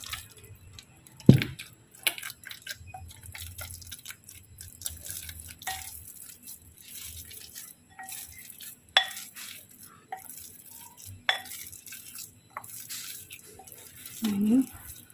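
Soft squishing and sticky slaps as bread dough for a jumbo braided loaf is stirred and folded in a bowl, close up with occasional sharper knocks against the bowl over a low background hum.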